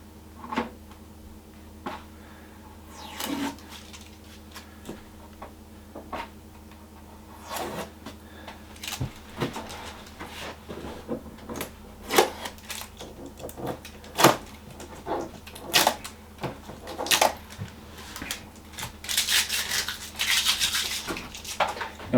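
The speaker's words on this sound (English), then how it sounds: "now let's take the tape off the drawers" Tape peeled off the drawers of a budget double-stack air fryer, then the plastic drawers pulled open, a string of sharp scrapes, clicks and rustles, with a longer ripping stretch near the end, close and fairly quiet.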